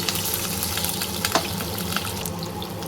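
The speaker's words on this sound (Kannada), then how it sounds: "ಇಷ್ಟನ್ನು ಹಾಕಿ ಸ್ವಲ್ಪ ಈ ಥರ ಫ್ರೈ ಮಾಡ್ಕೊಳ್ಳಿ" Chilli powder and sambar powder frying in a pan, a steady close sizzle with small crackles and occasional stirring scrapes throughout, no talking.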